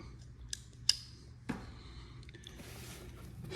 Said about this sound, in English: I'm trying to cut this light without wrecking it.